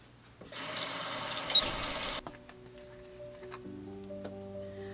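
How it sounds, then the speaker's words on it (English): A tap runs steadily for under two seconds while a face mask is washed off, then the water stops and soft sustained musical tones follow. "Let's wash this mask off."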